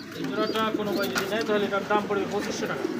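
A female racing pigeon coos close by in soft repeated throaty bursts, with someone talking over and around the calls.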